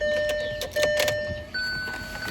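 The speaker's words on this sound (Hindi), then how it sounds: "गाड़ी में बैठने को मन तो नहीं, पहले स्टार्ट ही कर लूँ तो बढ़िया है" A car engine being started in intense heat, with a brief whirring crank and tonal whine that catches and steps up into a steady running hum, close by and alone.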